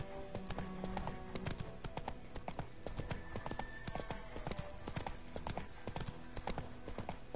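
Rapid, steady clip-clop of a horse galloping in The Witcher video game, loud and close throughout with a brief whinny-like call near the start and no talking.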